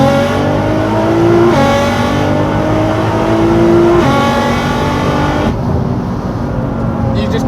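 A 1000HP Nissan R35 GTR accelerating hard: a loud, continuous engine roar heard from inside, with the pitch climbing steadily through the gears and barely dipping at the shifts, before easing slightly near the end.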